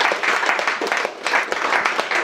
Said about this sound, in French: Je vous demande une fois de plus d'applaudir pour lui